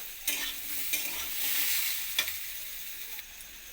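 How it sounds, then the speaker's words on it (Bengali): Tomatoes fry with ground spices in a pan for a papaya curry, making a gentle, continuous sizzle with a few scraping stirs close by and no talking. "টমেটোটাকে দিয়ে আবারও একসঙ্গে ভেজে নেবো"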